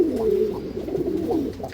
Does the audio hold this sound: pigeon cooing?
yes